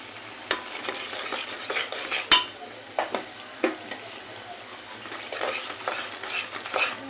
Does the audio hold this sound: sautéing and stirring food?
yes